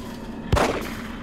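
A single sharp Magnum revolver shot fired in the survival-horror video game The Evil Within rings out loud and close, with a short booming decay over a steady background.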